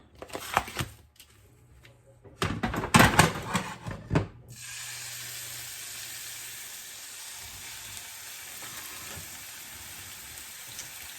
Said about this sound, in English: we're going to sear it up for about 4 minutes aside